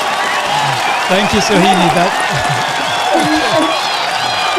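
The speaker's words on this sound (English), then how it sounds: "Peer Hub members are really going all out with the applause" Members of an online meeting applaud and cheer over a video call, a steady wash of clapping and scattered whoops under a voice speaking a short thank-you.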